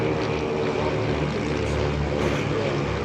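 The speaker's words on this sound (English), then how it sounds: "B-25s proceed down to the east flyby pattern." B-25 bombers flying by at an air show at EAA AirVenture, a loud sustained roar of piston engines and propellers filling the whole stretch with little variation.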